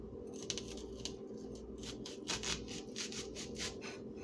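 A knife slicing through onions for homemade onion rings, giving a run of soft crunching cuts and scraping strokes close up, with a steady kitchen hum underneath and no talking.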